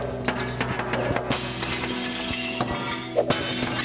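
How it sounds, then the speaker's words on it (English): Glass smashes repeatedly in the mobile game Smash Hit, bright crashes and tinkling shards over a steady droning musical bed, one large burst near the middle and more breaks toward the end. "Just listen to that glass shatter."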